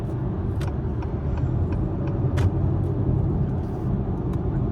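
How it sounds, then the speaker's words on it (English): Steady road rumble of an Acura TLX Type-S moving through heavy highway traffic near an exit, a continuous low drone with a few brief passing swells and no talk. "There's so much traffic."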